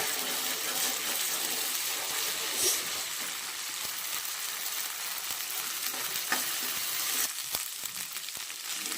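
Ginger-garlic paste frying in a pan, a steady close crackling sizzle running throughout with occasional stirring scrapes and no talking.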